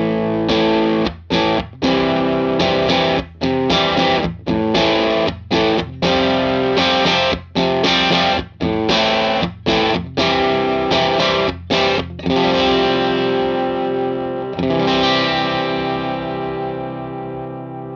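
An electric guitar played through a growly overdrive pedal with silicon and germanium clipping diodes: distorted, sustained chords struck in a steady rhythm with brief gaps, then a final ringing chord that fades, loud and alone.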